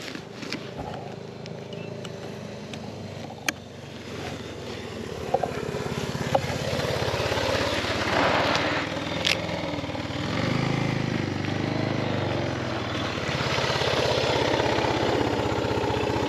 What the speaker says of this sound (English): The bike is backfiring.